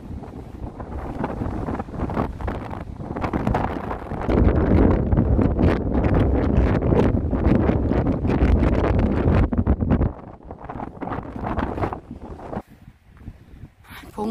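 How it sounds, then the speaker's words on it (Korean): Strong wind on Biyangdo islet off Udo buffets the microphone in heavy, continuous roaring gusts that peak midway and ease toward the end, with no clear talk. "바람 너무 많다."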